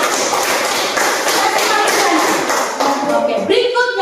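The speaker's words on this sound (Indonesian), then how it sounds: "Tepuk tangan untuk kita semua." A classroom training group claps for itself, a loud, close, dense patter of hands that continues throughout, with voices mingled in near the end.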